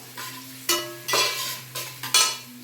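Onions sizzle and fry in a pan for Maggi noodles, with a few loud scraping strokes of the spoon stirring them over a steady low hum.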